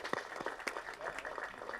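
An audience applauding at a Tamil film event, with scattered sharp claps over a steady crowd murmur, moderately close and not very loud.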